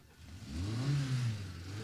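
A Simca 1000 engine catches and revs at the Tour de Côte-d'Or rally, rising to a rough mid-pitched roar and settling back, close and alone.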